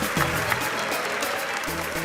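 Audience applause at a comedy show in Abidjan, a steady, even roar of clapping heard under a voice throughout the short stretch.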